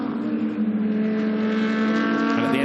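KTM GT2 race car at Paul Ricard circuit during a GT2 European Series race, a loud, sustained engine note rising steadily in pitch as it accelerates close by.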